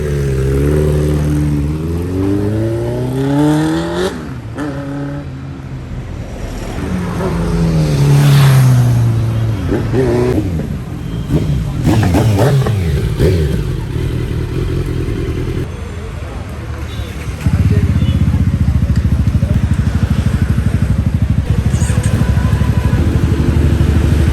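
A Kawasaki Z900 motorcycle engine runs steadily on its first ride after delivery, a loud continuous drone that rises and shifts in pitch, with voices talking over it.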